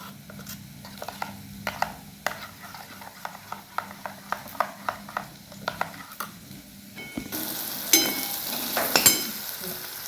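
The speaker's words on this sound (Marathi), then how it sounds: "छान मिक्स करून घ्यायचं आहे।" Yogurt mixed with spices in a bowl for a spiced okra curry, a spoon knocking in a steady rhythmic series of close taps and scrapes, then a louder sizzling wash near the end.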